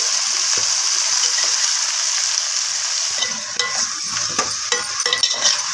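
Mutton potato curry gravy with salt and turmeric sizzling in a pan, quiet at first, then stirred with scraping, clinking spoon strokes over the constant frying hiss.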